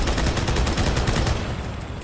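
Vehicle-mounted guns firing in Halo 2 Anniversary, a dense rapid burst of automatic gunfire that is loud and continuous, then easing slightly toward the end.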